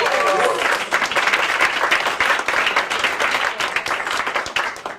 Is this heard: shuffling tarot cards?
no